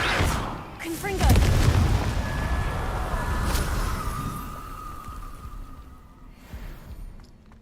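Confringo blasting curse explodes in Hogwarts Legacy with a heavy close boom that rolls into a fading rumble, layered over busy game effects and a tonal hum.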